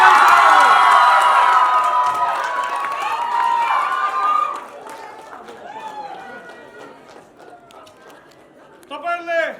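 Cheering and clapping from an audience greeting a women's football team captain: loud whoops and applause at the start that gradually die down to scattered voices and chatter, with a brief renewed burst near the end.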